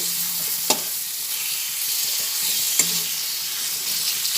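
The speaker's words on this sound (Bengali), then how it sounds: "টমেটো দিয়ে আবার ভালোভাবে টমেটোটাকে এর মধ্যে একসঙ্গে মিশিয়ে নিচ্ছি ভেজে নিচ্ছি" Tomatoes fry in hot oil with a loud, steady sizzle, broken by a couple of stirring scrapes in the pan.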